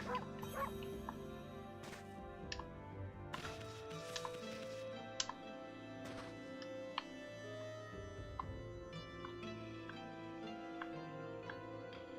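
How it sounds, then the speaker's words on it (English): The wolf in the video game Okami gives a string of short, high yipping barks over continuous game music. "Oh, we can bark."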